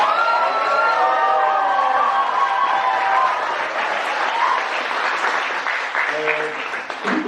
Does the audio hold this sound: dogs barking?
no